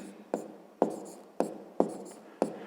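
Handwriting numbers while working a fifth-grade arithmetic problem, with five short scratchy strokes of pen or chalk spaced about half a second apart, close and alone.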